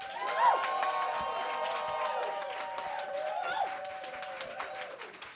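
Crowd cheering and clapping at a comedy-style roast event, a sustained wash of shouts, whoops and applause at steady loudness with some voices rising above the noise.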